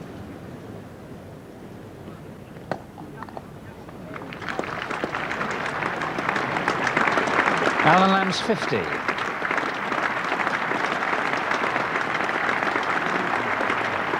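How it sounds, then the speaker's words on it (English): Small crowd at Lord's applauds during the England v Sri Lanka Test match, 1988: a commentator speaks over light wind noise, then generous, moderately distant clapping swells up and carries on steadily to the end. "Small crowd, but generous applause."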